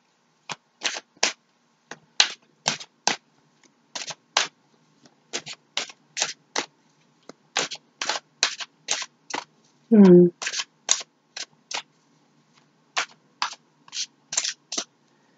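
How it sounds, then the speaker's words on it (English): Playing cards are shuffled repeatedly, with quick crisp riffling bursts in a steady irregular rhythm, close and clear, interrupted once by a brief low knock. "while I shuffle the cards"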